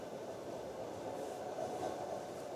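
A Russian passenger train rolls along its rails with a steady, close rumble and hiss that stays even throughout, with no voices.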